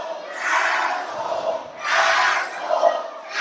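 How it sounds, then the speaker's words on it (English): Wrestling crowd at a CCW Anniversary show in Port St Lucie, Florida, jeering Stallion Rogers: two loud swelling waves of massed booing and shouting, each building and fading, filling the hall with no clear single voices. "The crowd letting Stallion Rogers know what they think of him."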